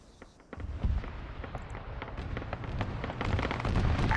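Rapid grenade launcher fire from an 8-bit GMG pounding an enemy turret in a military shooter game, a dense stream of sharp thuds and crackling blasts that grows louder toward the end, with no talk.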